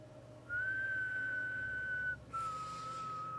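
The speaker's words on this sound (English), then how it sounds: "Whistled." A clear whistled tone from a TV show holds one steady pitch for over a second and a half, breaks briefly, then resumes slightly lower over a quiet background hum.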